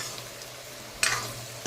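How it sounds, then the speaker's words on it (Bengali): Potatoes frying in oil, a low steady sizzle with a sudden louder crackle burst near the end as the pieces are stirred, close, no talking. "এখন আমি আলুটাকে ভেজে নিচ্ছি"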